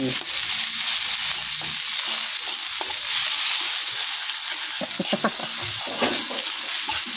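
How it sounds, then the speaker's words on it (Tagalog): Food sizzling and frying in a pan while a utensil stirs it, a steady hiss with scraping strokes that grow more frequent toward the end. "Haluin lang yan."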